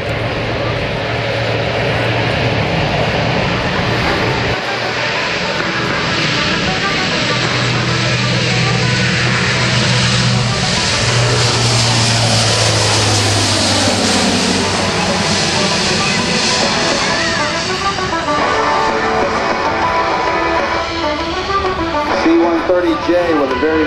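A Lockheed C-130J-30 Super Hercules, driven by four Rolls-Royce turboprop engines of 4,700 horsepower each, takes off on a steep climb at an air guard open house. It makes a loud, continuous propeller roar with a droning hum, and a commentator talks over it.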